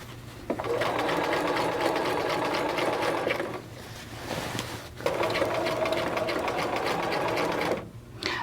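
Sewing machine stitching a raglan sleeve seam, a close, steady whirring rattle in two runs separated by a short pause, with a brief stop near the end.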